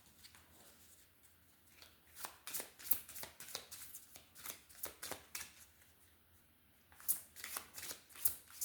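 A tarot card deck is shuffled by hand in a quiet room, giving repeated bursts of crisp riffling and flicking card noise, loud and close, with brief pauses between passes.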